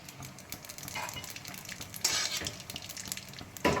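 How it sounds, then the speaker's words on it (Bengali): Poppy seeds fry in oil with nigella seeds and dried red chilli. Faint, quiet sizzling is dotted with small crackles and pops, and a few sharper bursts stand out. "পোস্তটা ভাজা হচ্ছে, কীরকম আওয়াজ হচ্ছে ফুট করে।"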